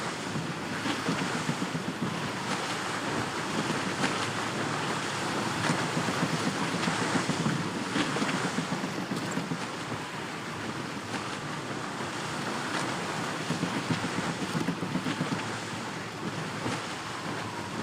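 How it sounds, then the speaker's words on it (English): Strong wind and surging waves at sea aboard a sailing ship in Assassin's Creed Rogue, a steady loud rush of gusts and water washing over the hull without any voices. "Wind's getting vicious."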